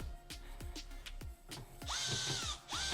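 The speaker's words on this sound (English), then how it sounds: "Now we put all the Phillips screws in place." A power drill drives Phillips screws into the cover panel of a GE glass cooktop: short mechanical bursts and clicks, then a longer whirring run with a rising whine near the end, close and fairly quiet.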